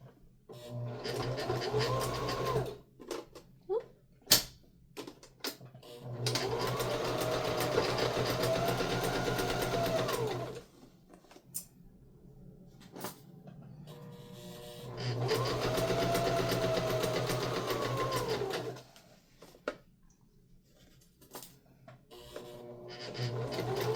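A sewing machine stitches a Carriers Conquest bag in two long running bursts separated by pauses, with brief clicks and handling noises between the seams; no one talks.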